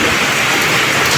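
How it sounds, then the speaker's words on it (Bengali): Rain falling in a Bangladeshi village, a dense steady hiss of drops on surfaces, close and fairly loud, with no voices. "বৃষ্টি শুরু হয়ে গেছে"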